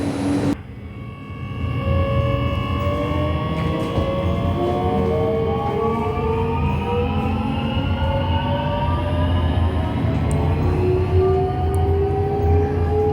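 A Jakarta LRT light rail train hums and whines steadily as it pulls away from Velodrome station and moves along, rising electric motor tones over rumbling wheels, close and continuous.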